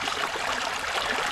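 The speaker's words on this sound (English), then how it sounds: "the noise of the babbling brook" A babbling brook rushes and gurgles continuously nearby, a broad, steady wash of flowing water with no voices.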